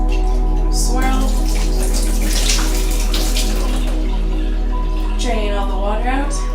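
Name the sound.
water swirled and drained from broccoli sprouting seeds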